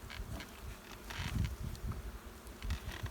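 Honey bees buzz around an open hive during a hive check, a close, fluctuating drone with individual bees swelling loudly past the listener at irregular moments.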